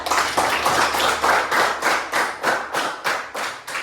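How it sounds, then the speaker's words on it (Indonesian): A classroom group claps together for fellow students, a loud rhythmic burst of synchronized hand claps in even beats, close and clear, with almost no talking. "tepuk tangan untuk temannya"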